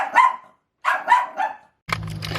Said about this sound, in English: if you hear any barking,